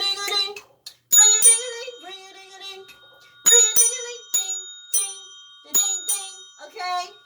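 A bright notification bell sound effect dings repeatedly in quick ringing strikes, several clustered bursts with decaying tones, loud and close, while a voice talks between the chimes.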